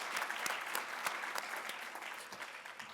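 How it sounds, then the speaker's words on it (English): An audience at a gala applauds, a dense, steady clatter of many hands clapping in a large room, fairly soft and continuous throughout. "Give yourselves one more round of applause for all of our contributors' generosity."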